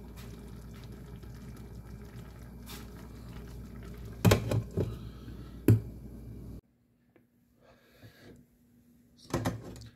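A turkey nacho mixture simmers under a lid in a pot, giving a steady low bubbling hiss with a few sharp clicks and taps, then the bubbling drops away to near quiet with occasional light clatter.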